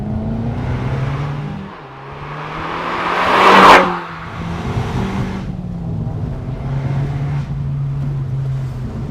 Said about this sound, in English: it also is a valved exhaust. So one touch of the sport button and you really get to hear what it's like